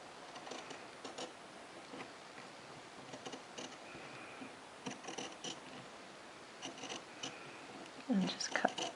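Scissors snip through fabric while trimming a flat felled seam, with a run of faint, quiet crisp cuts spread across the clip and a louder rustle of cloth near the end.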